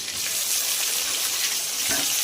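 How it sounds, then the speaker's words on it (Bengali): Panch phoron, slit green chilies and ground ginger dropped into hot oil, a loud, continuous hissing sizzle close by that swells slightly near the end. "এবার এই তেলেই আমি দিয়ে দেবো কিছুটা পাঁচফোড়ন, আর দিয়ে দেবো চেরা কাঁচা লঙ্কা, আর দিয়ে দেবো বেটে রাখা আদা।"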